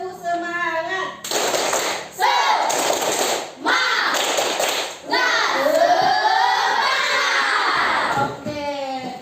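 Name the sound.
class doing a clapping chant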